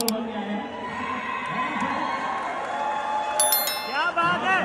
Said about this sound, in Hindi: तालियां जोरदार होनी चाहिए भाई